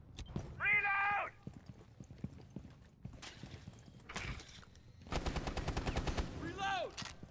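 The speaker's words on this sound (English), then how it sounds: "He does land a few shots onto the sledge" Several bursts of gunfire from a Rainbow Six Siege match crackle at moderate distance, including a rapid automatic volley, mixed with other short in-game effects and clanks.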